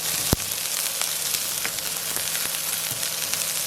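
Onions sizzle and fry steadily in hot oil for a mutton curry, a dense, close crackle with occasional sharper pops and faint stirring clicks.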